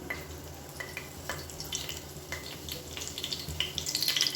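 Whole spices with curry leaves crackle and sizzle in hot oil in a pan, giving a soft, continuous fizz dotted with small pops that grow busier toward the end, heard close and fairly quiet without speech.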